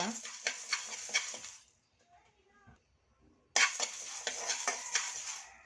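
Coriander seeds dry-roast in a pan for pepper saaru, heard as bursts of rattling, scraping stirs that stop for a quiet gap of about two seconds and then resume just as loudly.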